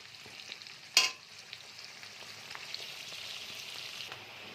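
Onions frying in a pan for chilli chicken give a steady soft sizzle throughout, broken by one sharp clatter near the start, with no voices.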